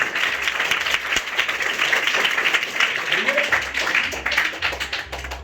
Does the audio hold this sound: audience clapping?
yes